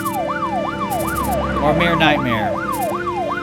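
Ambulance siren in the Troubleshooter video game, a loud rising-and-falling wail that cycles steadily throughout, with a brief line of speech over it midway.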